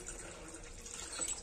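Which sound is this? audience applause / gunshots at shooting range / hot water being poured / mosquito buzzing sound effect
hot water being poured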